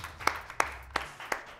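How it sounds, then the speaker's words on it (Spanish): Slow, evenly spaced handclaps for a team, four or five close and distinct claps in a steady rhythm against a quiet room. "Un aplauso para ellos, por favor, bien merecido."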